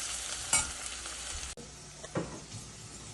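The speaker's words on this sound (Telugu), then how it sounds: "ఇప్పుడు దీంట్లో ఆవాలు, జీలకర్ర, కరివేపాకు వేసి వేయించుకొని కొంచెం ఉల్లిపాయ వేసుకోవాలి" Mustard seeds, cumin and curry leaves fry in a pan for cabbage and chana dal curry, a close, even sizzle broken by a few spoon stirs and a sharp knock midway.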